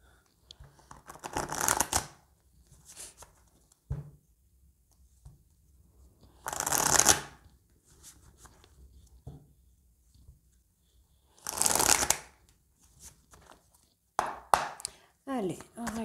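Oracle cards being shuffled and cut, heard as several loud riffling bursts spaced apart, with softer card handling and taps between them and no talking.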